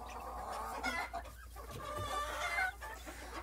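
Silkie chickens of partridge colouring cluck steadily and softly over a low background hum, with several birds murmuring close by and no one speaking.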